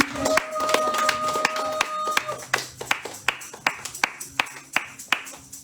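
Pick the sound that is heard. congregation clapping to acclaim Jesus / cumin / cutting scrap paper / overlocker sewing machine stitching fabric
congregation clapping to acclaim Jesus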